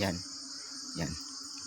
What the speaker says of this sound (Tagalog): O yan, tumutunog, palaka